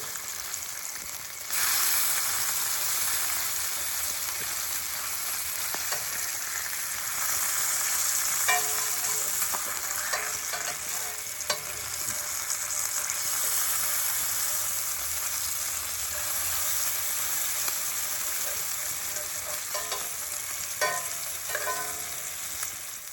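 Breakfast of eggs and bacon frying in a pan, heard as a continuous hiss and sizzle with occasional pops and crackles, steady and fairly close, with no one talking.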